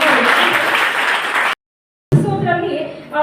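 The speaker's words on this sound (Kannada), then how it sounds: "ದಯವಿಟ್ಟು ಜೋರಾಗಿ ಚಪ್ಪಾಳೆ ಹಾಕಿ." Audience applause at a college event, dense loud clapping for about a second and a half, then a sudden cut, then voices talking.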